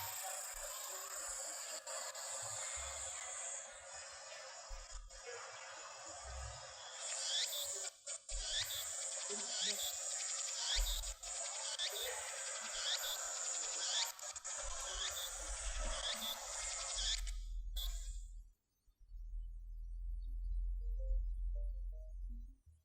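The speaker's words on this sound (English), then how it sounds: "There are a lot of cicadas in this game." Cicadas in the video game Steins;Gate keep up a dense, high, continuous buzzing drone with faint pulsing for most of the stretch, then cut off abruptly into near silence with only low rumbling.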